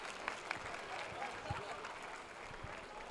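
Faint, distant audience applause at an anime convention award ceremony, a thin steady patter of clapping with a few sharper claps standing out while people talk nearby.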